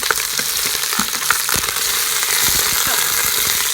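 A porter-braised beef roast being turned over in a hot pan, a loud continuous sizzle and crackle close up, with scattered pops and scrapes as it moves.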